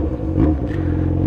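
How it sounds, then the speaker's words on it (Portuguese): A loud motorcycle engine revs close by in a steady, rumbling drone with rising throttle surges, heard alone without talk. "Você gosta de moto barulhenta?"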